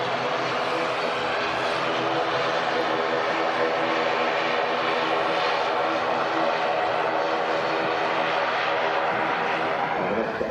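British Airways Airbus A380 jet airliner in a special oneworld livery at Manchester Airport, a steady broad engine roar that holds loud and even throughout, with speech likely mixed in.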